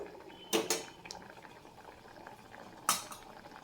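A thick curd mixture for kurukku kalan bubbling in a pot, mostly a low simmer punctuated by a few loud, sharp bursting plops, with no talking.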